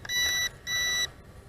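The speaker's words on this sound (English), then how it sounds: "Okay, double beep and it's beeping and it is making its way back." An RC136FGS brushless GPS FPV drone gives a double beep as it returns to home, two loud, steady electronic tones of about half a second each with a short gap between them.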